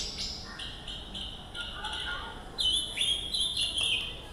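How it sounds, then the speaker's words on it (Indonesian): A pancawarna bird calls in a series of bright, high chirps and whistled notes, sparse at first and then louder and closer toward the end, with no talk over them. "Ini burung pancawarna juga suaranya."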